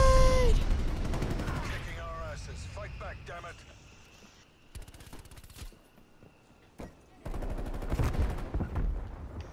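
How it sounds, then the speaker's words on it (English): Strafe run in a first-person shooter video game, with a dense burst of rapid gunfire and sharp impacts amid shouting voices, then quieter lulls before another heavy rattling volley near the end. "strafe run inbound"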